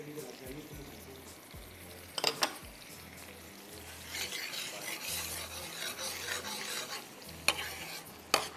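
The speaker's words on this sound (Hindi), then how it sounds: "प्याज और लहसुन को ज़रा सा हम भून लेंगे" Onion and garlic being fried and stirred in a pan for a kalegi (liver) dish, with a steady soft sizzle and repeated scraping strokes of a spoon, plus a couple of sharper clatters; no speech.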